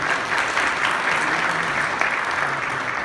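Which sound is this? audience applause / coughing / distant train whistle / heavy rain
audience applause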